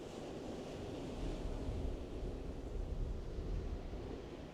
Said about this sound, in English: The wind's blowing quite fresh now, and yet the rod is coping with that perfectly.